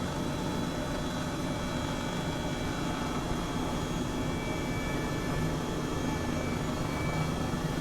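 An Airbus H135 helicopter sets down in the video game MSFS 2020, its turbine whine and rotor drone a steady, loud, unbroken hum with no voices.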